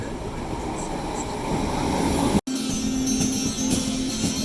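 Train pulling away from a station on a matchday trip to the Emirates, a steady loud rumble of wheels and carriages with a brief cut midway and a faint whine after.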